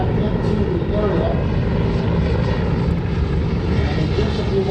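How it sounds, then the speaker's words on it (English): Helicopter flying slowly overhead at the Canadian International Air Show in Toronto, a steady, loud broadband rotor and engine roar that continues throughout, with faint talk mixed underneath. "the helicopter is going very slowly come back into the area"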